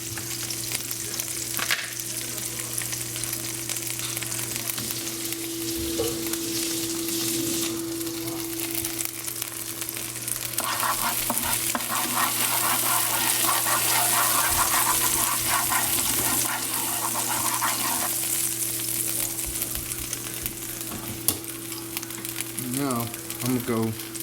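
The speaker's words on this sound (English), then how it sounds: "Once that minced garlic gets the seasoning, that's gonna get the sizzling." Salmon fillets and minced garlic sizzle and fry steadily in a pan for a couple of dinner servings, a continuous close crackle with occasional stirring and clinks, swelling louder midway before easing.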